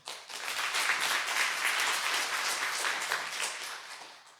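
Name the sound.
congregation applause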